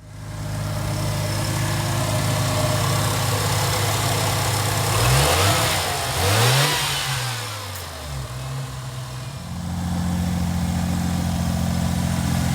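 A Mazda RX-7 rotary engine running after years of sitting, with a bad fuel pump, idles steadily up close, then revs up and down a few times before settling back to a steady idle.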